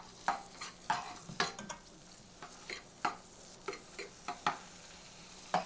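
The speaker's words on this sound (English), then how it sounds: "You stir this around a little bit." A utensil stirs food around in a hot pan, giving repeated soft scraping strokes at an uneven rhythm over a faint sizzle, with no one talking.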